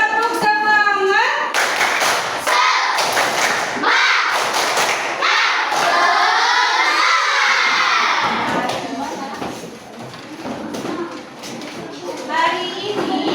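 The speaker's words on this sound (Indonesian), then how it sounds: "biar lebih semangat sebelum belajar kita tepuk semangat terlebih dahulu" A class of schoolchildren shout and clap together in a rhythmic chant, loud and lively, with sharp claps and thumps punctuating their voices.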